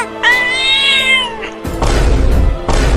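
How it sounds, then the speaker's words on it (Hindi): A cartoon cat gives a drawn-out, wavering meow near the start, loud and close, then breaks off as rumbling noise bursts take over the rest. "ये बिल्ली अपनी दांतें दिखा रही है हमें काटने के लिए।"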